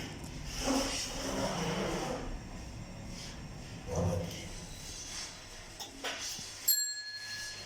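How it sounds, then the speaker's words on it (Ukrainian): A restaurant service lift chimes its arrival bell at the floor, a brief bright ding near the end of a quiet stretch with faint mechanical hum and a few soft knocks. "дзвіночок сигналізує нам, що ліфт приїхав на наш поверх"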